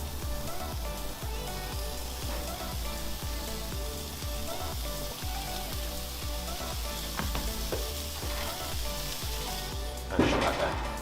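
Burgers searing on a Weber Genesis gas grill's sear grate with the burners on high, giving a steady, loud, close crackling sizzle that runs throughout, ending in a brief louder burst.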